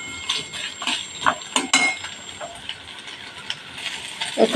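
Pointed gourd curry with ginger-garlic paste stirred in a pan, giving intermittent metallic clinks and scrapes of a spoon against the pan with quiet gaps between strokes.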